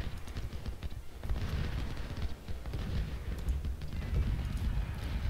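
Musket volleys crackle in Ultimate General: Civil War during the Second Battle of Bull Run, a dense, continuous fusillade of overlapping distant shots rolling on without pause.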